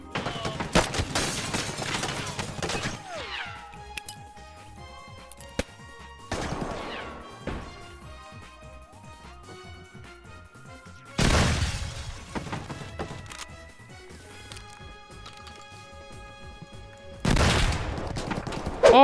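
Gunfire in the video game Escape From Tarkov during a Lighthouse raid, with several loud bursts of shots and crashing impacts at the start, mid-clip and near the end, separated by quieter stretches of game ambience.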